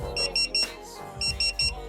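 Cafe order pager buzzer going off at close range, two bursts of three rapid electronic beeping pulses separated by a short pause.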